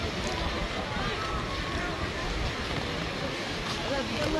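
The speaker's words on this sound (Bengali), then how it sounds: "নৌকা আসছে।" A boat approaches across the water at Kuakata, its rumble blended into a continuous roar of wind buffeting the microphone, with voices talking faintly.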